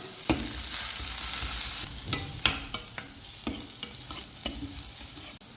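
Chopped onions sautéing in a pan for mutton liver fry, with a steady sizzle cut by repeated sharp scrapes and knocks of a spatula against the pan, close up and with no talking.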